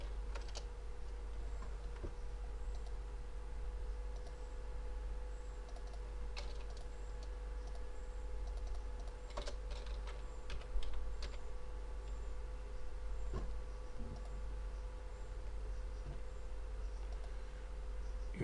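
Computer keyboard typing with sporadic key clicks over a steady electronic hum, close and fairly quiet, with no voices.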